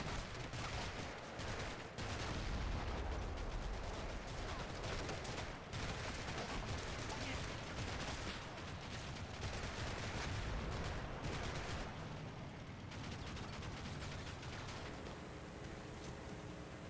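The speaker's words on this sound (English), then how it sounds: "German machine guns in the Via." Machine gun fire in the Combat Mission: Fortress Italy video game, a faint, continuous crackle of gunfire bursts that runs throughout.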